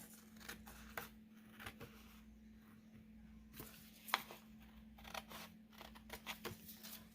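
Scissors cutting paper for a homemade rainstick, a series of short crisp snips and crinkles at close range in a quiet room, with a steady low hum underneath.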